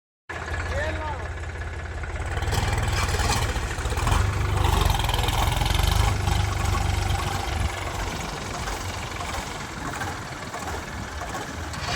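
A tractor engine idles and then revs under load while pulling stuck carts outdoors on a farm, a loud, steady, low rumble that swells in the middle and holds, with someone talking over it.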